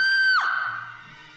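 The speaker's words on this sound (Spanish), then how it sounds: "exhaló un grito de terror." A woman lets out a single sharp scream of terror, loud and high, which bends abruptly downward and trails off into a fading wail, an audiobook sound effect heard alone.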